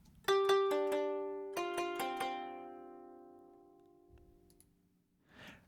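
An unequalized guitar plucks two short groups of notes that ring out long and sustain into a slow fade, followed by a faint click and a brief soft noise; quiet and alone.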